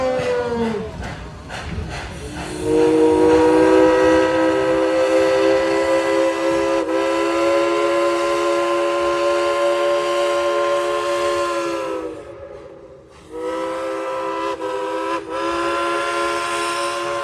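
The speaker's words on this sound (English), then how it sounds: "The whistle." A steam locomotive whistle at the Dollywood theme park in Tennessee gives a long, loud, sustained harmonic blast. It breaks off briefly and then sounds again, with no voices.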